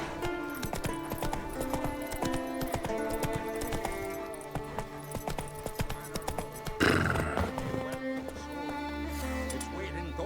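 Roach, the horse in The Witcher 3: Wild Hunt, whinnies and trots with rhythmic hoof clip-clops, layered over game music and ambience, with a loud burst partway through.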